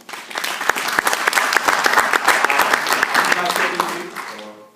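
Applause from an audience at an entrepreneurs' presentation event, many sharp individual claps building into a steady round, then thinning out and fading as a voice begins.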